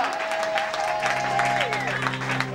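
Churchgoers applaud and cheer in acclamation of God during a sermon, a moderately loud mix of clapping with sustained tones and some voices underneath.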